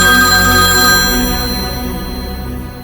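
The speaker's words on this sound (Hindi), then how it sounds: "विपुल का फोन है।" Phone ringing with an incoming call in a horror drama scene, a loud, steady electronic ringtone with sustained tones that fades slightly over about three seconds, alone with no talk.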